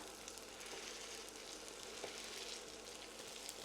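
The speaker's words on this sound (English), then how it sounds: "we're going to cook that on that side till it's golden brown" Potato rosti cakes, pressed flat with a spatula, frying in a pan with a steady, close hiss and crackle of sizzling oil, with no voices.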